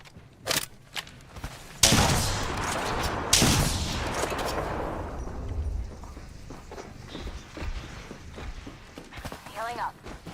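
Several sharp, loud gunshots ring out in a video game firefight, a few separate cracks and heavy blasts with decaying echoes, followed by quieter clatter and scattered effects.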